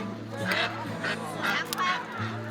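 Ducks at a traditional Chinese village market give several short, harsh honking quacks in quick bursts over a low background hum, fairly close.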